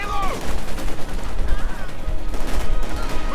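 Rapid bursts of submachine-gun fire from Soviet PPS guns ring out in a Company of Heroes 2 battle, dense crackling volleys layered with distant shots and explosions, with no speech.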